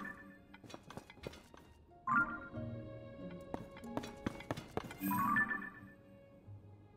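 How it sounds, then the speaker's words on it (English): Horse hooves in Zelda: Tears of the Kingdom sound as scattered clip-clop taps mixed with clinks and short game sound effects, moderately quiet and irregular. "Horse."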